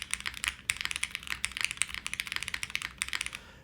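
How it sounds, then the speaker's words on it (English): Fast typing on a $250 custom mechanical keyboard with leaf springs, a close, crisp run of clacking keystrokes in a quick uneven rhythm, with no voice. "this is no slouch sound-wise, too. I love it's bouncing as you type"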